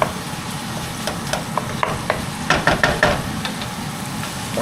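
Longganisa sausage fries in a pan for Ilocos empanada filling, a steady close sizzle broken by scraping stirs and a few sharp knocks of a utensil against the pan.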